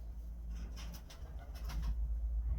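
Baku pigeons coo softly in a few low, throaty rolls against a steady background hum, with no talk.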